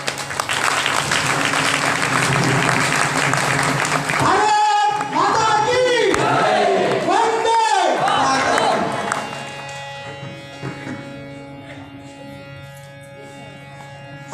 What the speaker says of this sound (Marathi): जोरदार टाळ्या वाजायच्या आहेत